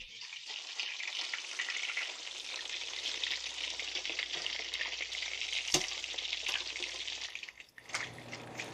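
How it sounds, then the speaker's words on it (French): Pieces of fish sizzling as they fry in a pan, a steady bright crackle throughout, close and moderately quiet, with a couple of sharp pops and a brief lull near the end. "J'entends un léger grésillement."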